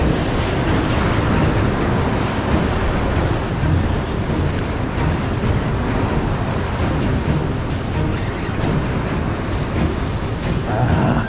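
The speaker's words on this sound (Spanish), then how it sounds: "No están viniendo tres, están viniendo cuatro olas, hay que tener cuidado." Rough ocean surf breaks on the shore where people fish, making a loud, continuous roar of crashing water that never lets up.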